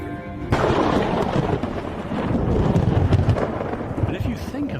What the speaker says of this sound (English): Moses spoke, and God answered him in thunder.